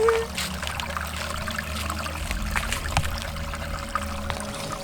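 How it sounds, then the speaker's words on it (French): A river flowing beneath a small bridge in a green setting, a steady close trickle and rush of water running continuously throughout. "avec le bruit de la rivière là"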